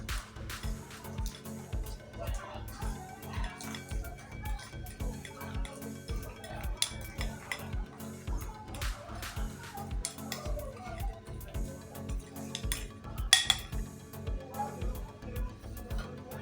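A homemade face scrub is stirred and mixed in a bowl, a steady rhythmic scraping and clinking of utensil against the bowl that stays faint and repeats throughout.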